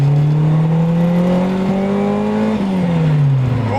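A Nissan Sabre 200GXI engine pulls hard in second gear at around 3,500 RPM, a loud, steady droning roar with the pitch climbing slowly and then easing off near the end.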